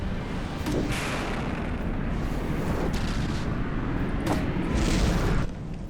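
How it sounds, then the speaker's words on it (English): An Atlas turret firing in the From the Depths naval combat game, heavy booming shots repeating roughly every one to two seconds over a constant low rumble of battle. "I got shot by my own Atlas."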